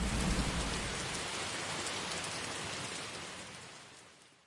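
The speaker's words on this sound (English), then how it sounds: "This rain seems like it will never stop." Steady rain falling outdoors, a dense even hiss of drops that gradually fades toward the end, with no voices.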